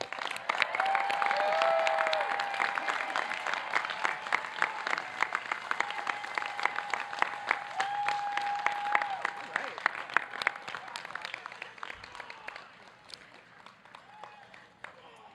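A large commencement audience applauds new BA graduates at a college ceremony, sustained dense clapping with scattered cheers that fades out toward the end.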